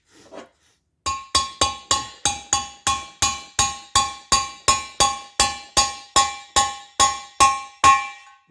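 A shop-made driver hammers chilled valve guides into a cylinder head: about eighteen sharp, ringing metallic strikes at a steady, even rhythm, each decaying quickly, close and alone.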